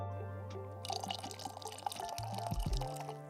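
Coffee is poured so it splashes, starting after a quiet humming moment with a busy stream of trickling, dripping liquid and irregular splatters close by, swelling slightly toward the end.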